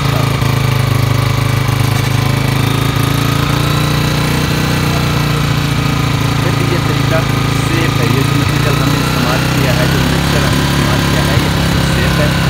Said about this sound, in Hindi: एक मिनट स्टार्ट रखना है बाइक से ज़्यादा नहीं